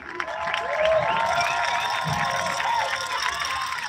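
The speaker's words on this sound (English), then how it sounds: "Can we get a round of applause for Shelby?" Crowd applause and cheering at a soccer Unity Cup event, a steady wash of clapping and voices filling the whole stretch at moderate distance, with a few higher shouts rising above it.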